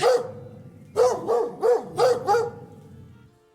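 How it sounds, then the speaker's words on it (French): A pack of wild dogs barks in a quick burst of five or so sharp, fairly close barks, with no talk over them. "Les chiens sauvages sortent du buisson."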